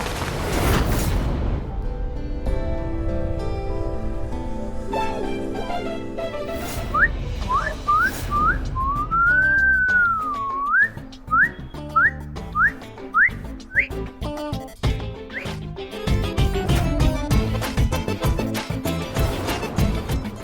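A man whistles at a woman in a Hindi TV serial: sliding, rising and falling whistle notes and short repeated chirps play over a loud background music score.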